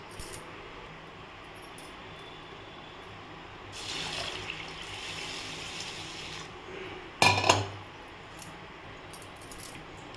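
Dosa batter ingredients washed under running water in a kitchen make a quiet, steady trickle and splash, with a louder sloshing stretch midway and a brief sharp clatter near the end.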